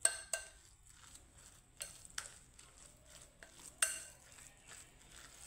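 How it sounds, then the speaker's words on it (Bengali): Light metal spoon clinks and scrapes against a bowl while besan and spices are mixed into ground moong dal batter, soft scattered taps close by in a quiet room. "এখন আমি সবগুলো মিশ্রণ করে নেব"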